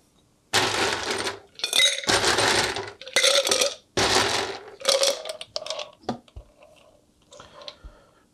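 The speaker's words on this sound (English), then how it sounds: "ice in our shaker." Ice cubes tumbling and clinking into a cocktail shaker for a Cosmopolitan, a series of loud, rattling bursts that come close together and then give way to a few sparse, fainter clinks.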